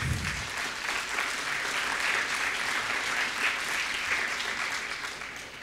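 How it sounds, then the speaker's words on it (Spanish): Audience applause at a conference session on water treatment challenges, a soft, steady wash of crowd clapping heard from a distance, even throughout and easing slightly at the end. "Entonces, un aplauso, sí."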